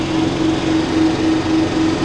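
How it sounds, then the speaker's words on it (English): Steady drone of a John Deere 4066R compact tractor mowing a trail behind trees, heard from inside the closed cab as a constant engine and cutter hum with a faint pulsing tone, no speech. "Mowing the trail that's on the backside of the trees on the new land."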